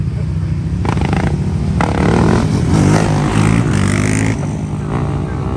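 A Yamaha YFZ450R quad bike at a bike ride-out revs its engine hard and loud, the pitch rising and falling in surges over several seconds, with crowd noise and voices around it.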